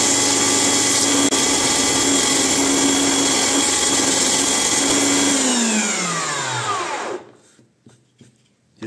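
A Lidl Parkside PDM 600 wood lathe spins a wooden workpiece while sandpaper is pressed against it, making a loud, steady motor whine with a rushing sanding hiss. The motor then winds down, its pitch dropping, and stops near the end.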